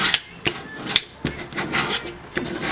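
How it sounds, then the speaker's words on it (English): Scraper rubbing and rasping across an Oramask 813 stencil on a wooden sign, in short scratchy strokes and a few sharp taps, close up with no talking. "I'm going to take my scraper,"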